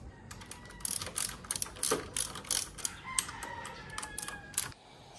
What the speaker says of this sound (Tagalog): Ito kaya na ng maliit na ratchet ko.